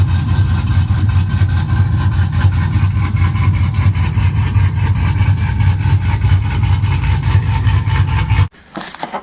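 Truck with a 6.0 engine and a bigger aftermarket cam idling loudly nearby, a steady deep rumble with a choppy lope, cutting off abruptly near the end.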